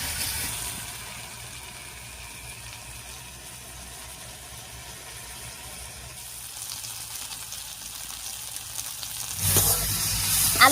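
Potatoes mixed with salt and turmeric fry in oil in a pan, giving a soft continuous sizzle that grows louder and brighter toward the end, with light stirring and no speech.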